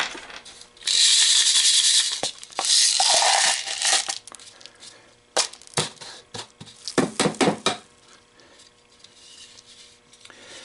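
Gold pay dirt from a 1 lb ArksGold bag being poured and scraped into a small pan, giving a gritty hiss of sliding gravel followed by a run of close, clinking taps and rattles.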